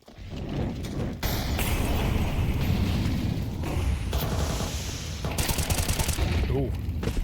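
Rapid bursts of gunfire from a Counter-Strike 2 esports match, with dense overlapping shots and mechanical clatter sustained across the whole stretch, loud and close, with casters' voices faintly underneath.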